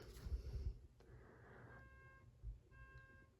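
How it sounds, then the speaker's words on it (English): Faint electronic beeping, a few short thin tones repeating in the background over low rumble, no talking. "Oh, someone's beeping."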